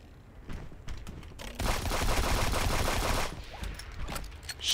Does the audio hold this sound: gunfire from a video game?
yes